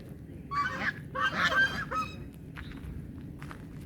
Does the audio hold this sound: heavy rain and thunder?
no